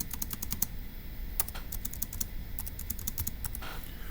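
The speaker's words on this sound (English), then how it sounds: "let me type it up and then we'll verify." Quick bursts of computer keyboard typing, clustered keystrokes with short pauses between runs, close and clear over a low steady room hum, with no voices.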